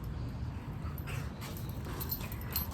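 A puppy whimpers faintly against a steady low background hum, with a few thin, high whines scattered through the quiet stretch.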